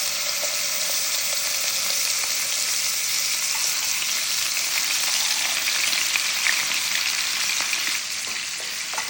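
Chicken pieces frying in a pan of olive oil and butter, a loud, steady sizzle with a constant crackle that runs throughout and eases slightly near the end.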